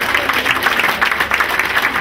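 An audience at a fashion show claps in sustained applause, dense, even and fairly loud throughout.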